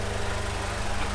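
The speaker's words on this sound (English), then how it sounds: "Oh, fan just kicked on, even better." The radiator cooling fan on a Honda DC2, just fitted with a new Koyo radiator, runs as a steady low whir with a rapid even pulsing beneath it, continuous across a very short moment.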